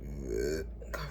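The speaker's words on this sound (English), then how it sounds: "Confirmation burp." A single close, fairly loud burp from a woman, a drawn-out throaty belch that trails off into quiet.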